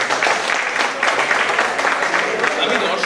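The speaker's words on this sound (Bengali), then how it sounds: "এদের সবার জন্য এক রাউন্ড জোরে হাততালি হয়ে যাবে" An audience at the Ujaan 2013 cultural show at IIT Bombay applauds the crew with sustained, dense clapping and cheering voices that fill the hall at a steady, loud level.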